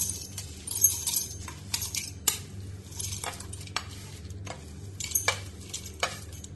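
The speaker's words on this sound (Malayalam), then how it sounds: "ഇത് പൊടിച്ചെടുക്കാൻ വേണ്ടി മിക്സിയുടെ ജാറിലേക്ക് ഇട്ട് കൊടുക്കാം" Dry-roasted chutney ingredients tip into a mixer grinder jar with several light clinks and rattles against metal, small scattered taps spread across the moment, close and fairly quiet.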